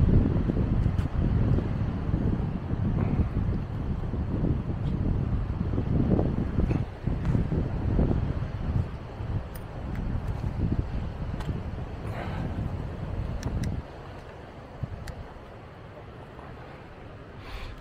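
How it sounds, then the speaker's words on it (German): Warm wind blowing in Maspalomas, Gran Canaria, buffeting the microphone as a steady, gusty rumble that holds for most of the stretch and eases off toward the end. "ein bisschen Wind kommt auf und der Wind ist warm"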